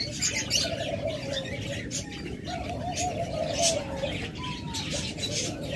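Pigeons coo and murmur against a busy background hum, with occasional chirps and wing flutters nearby.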